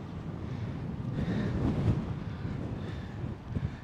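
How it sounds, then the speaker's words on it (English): Gusty wind outdoors in Brooklyn, New York City, buffets the microphone in a continuous low roar, swelling stronger midway before easing slightly. "Ooh, it's windy."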